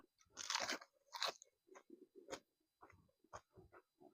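Someone chews a spicy Thai squid salad with fermented fish sauce and fresh vegetables, making close, irregular crisp crunches and bites. The crunches are quiet and spaced unevenly, with no talking.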